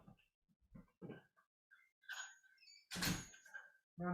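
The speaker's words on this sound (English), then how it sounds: "I'm going to shut the door." A door is pulled shut indoors, with soft handling noises and a dull thunk near the end, followed by a quieter knock, heard close by in a quiet room.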